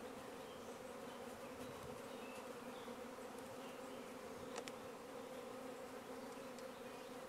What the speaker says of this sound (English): They'll call the swarm down.